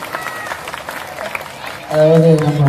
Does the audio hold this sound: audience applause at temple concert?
yes